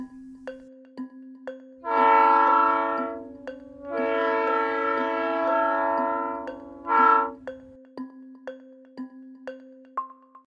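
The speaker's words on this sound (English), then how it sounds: "It's a train." A train horn blows in long, loud harmonic blasts, the last one shorter, with clicks and rattles of rail cars around them.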